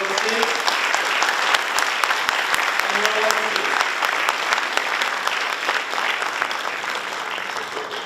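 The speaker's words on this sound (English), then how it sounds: "may I request each one of you to give a huge applause to the dons of the industry" Sustained, dense applause from a conference audience fills the hall for speakers on stage, steady and loud throughout with a faint voice underneath.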